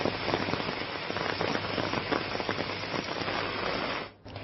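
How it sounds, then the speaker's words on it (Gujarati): Light, steady rain falls in Dwarka, a continuous soft patter on surfaces with scattered small drops. It stays even and fairly close, then briefly dips near the end. "ધીમે ધારે અહીંયા વરસાદ વરસી રહ્યો છે।"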